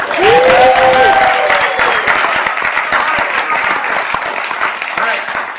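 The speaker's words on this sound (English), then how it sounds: "So big round of applause." An audience breaks into loud, sustained applause, a dense wash of clapping with some cheering that swells at first and then gradually thins out.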